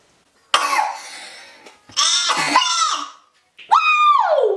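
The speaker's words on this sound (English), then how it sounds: "Some air made me cough." Three separate bursts of coughing, close and loud, with short pauses between them, the last ending in a strained, voiced tail.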